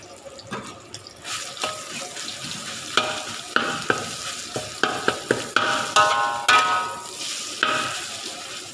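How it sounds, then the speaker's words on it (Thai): Pork stir-fries in hot oil in a pan, a close sizzle broken by repeated scraping and clattering strokes of a utensil. The strokes fall in an uneven rhythm and nobody speaks. "อ้าวหมูลงผัดเลยครับ"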